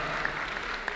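Brief applause from the audience at a Ramadan festival presentation, a steady wash of clapping at moderate level with a couple of sharper claps standing out.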